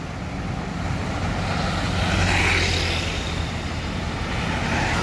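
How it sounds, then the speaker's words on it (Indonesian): Busy road traffic roars steadily outside a moving bus, a loud continuous rumble that swells briefly as a vehicle passes near the middle, with no voices. "Lalu lintas terpantau ramai lancar."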